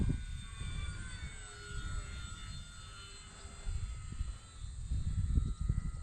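An E-flite Mustang 1.2m RC airplane flies overhead, its electric motor giving a buzzing drone that rises and falls in pitch as it passes, fairly near and loud, with no voices.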